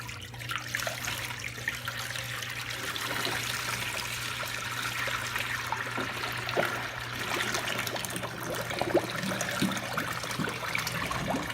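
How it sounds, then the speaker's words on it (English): Liquid sanitizer pouring into the pan of a SaniServ soft-serve machine, with a carb tube lying in it. The steady trickling and splashing runs for several seconds at close range. "you're just going to dump the sanitizer into it"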